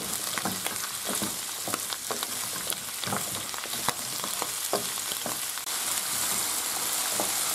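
Carrots and tomatoes sauté in a pan for tomato sauce, giving a steady, close sizzle with scattered clicks and scrapes of stirring throughout, no voices.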